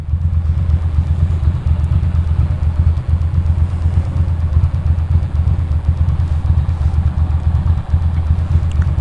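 A motorcycle being ridden, its engine thrumming steadily and loudly with a deep, continuous rumble and some rattling clatter, no voices over it.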